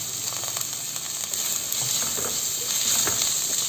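Halved small shallots frying in an oil-coated pan for a beef pepper masala, giving a steady, close, dense sizzle and hiss that holds throughout and swells slightly near the end, with no talking.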